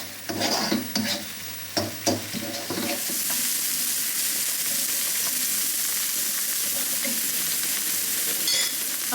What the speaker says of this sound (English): So if I turn this pan on, Okay, so I've got the spring onions and the peppers in this one.